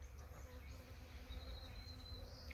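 Bees buzzing around garden zinnia flowers on a fall day, a steady low drone with a thin higher whine drifting past, fairly faint and continuous.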